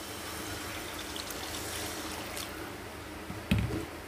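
Water streams steadily into a pan of Bengali egg curry, a continuous pouring trickle up close ending in a brief splashy burst.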